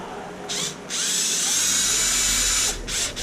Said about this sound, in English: My little drill is not on super high power.